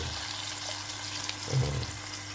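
Water is poured into a cooking pan over the mixed ingredients of a budget home meal, a steady, moderate rush of liquid that swells briefly toward the end, with no talking.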